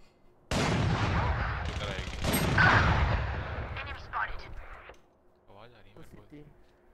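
Gunfire in the Valorant video game, a loud burst of rapid shots lasting several seconds, then fading to smaller effects while players talk over it.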